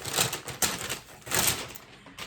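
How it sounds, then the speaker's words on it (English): A clothing bundle package is ripped open, with a few crackly tearing bursts of plastic and paper up close, loud and uneven, with no voices. "let's rip open the bundle and let's see what we got"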